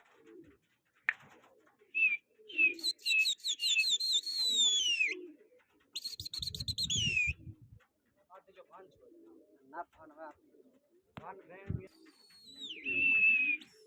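Pigeons at an outdoor pigeon flying contest coo in low, rolling bursts, interrupted by people talking and by sharp whistles, with short pauses between calls.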